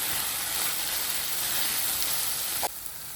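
Moth beans (matki) sautéing in oil with misal masala give a steady, close sizzling hiss throughout, cutting off abruptly near the end to a quieter background.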